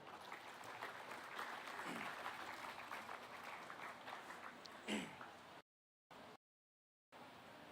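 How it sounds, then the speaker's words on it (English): Audience applause rings out for the young exhibitors at a county market heifer show, a steady crowd clapping for about five seconds that swells briefly near the end before cutting off into gaps. "let's give these young people a round of applause"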